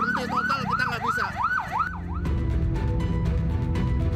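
Ambulance siren wailing in a rising-and-falling pattern for about two seconds, then cutting off into the dense rumble of stalled traffic in a total gridlock on the road to Tanjung Priok port.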